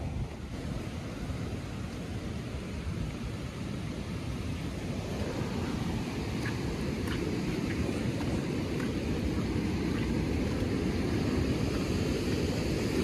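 A river in flood runs with a powerful, continuous roar of rushing water, loud and broadband, with wind buffeting the microphone throughout and no voices over it.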